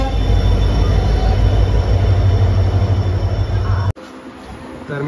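An Indian Railways train rumbles loudly at a station in Ratnagiri, Konkan, with squealing wheels and steady rail noise that cuts off abruptly, leaving quieter ambience.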